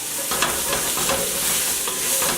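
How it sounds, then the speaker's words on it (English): Finely diced yellow onion stirred in a pan for Vietnamese beef stew, a wooden spoon scraping browned bits off the bottom over a steady close sizzle, with repeated scraping strokes and no voices. "I am scraping up those brown bits off the bottom, getting those kind of mixed in with the onions"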